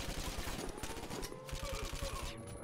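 Gunfire in the video game Call of Duty: United Offensive, during an assault on an Axis castle in Sicily: rapid, continuous automatic bursts, dense and steady throughout, moderately loud.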